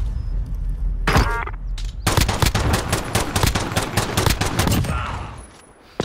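A mounted gun in Call of Duty Modern Warfare multiplayer fires a long, loud, rapid burst of shots after a couple of single reports, the rattling stream of gunfire cutting off sharply near the end.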